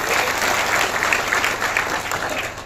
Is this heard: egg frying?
no